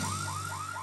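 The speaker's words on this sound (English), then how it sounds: "The saucer alarm!" A warbling cartoon alarm cycles through rising tones over a steady low hum, loud and continuous with no talking.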